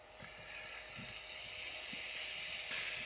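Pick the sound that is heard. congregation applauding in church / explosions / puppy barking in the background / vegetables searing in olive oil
vegetables searing in olive oil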